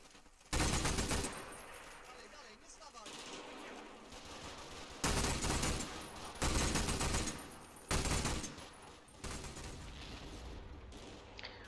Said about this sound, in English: I have brought up the Vickers to continue to provide area fire support.